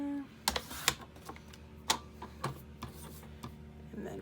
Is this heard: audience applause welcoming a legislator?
no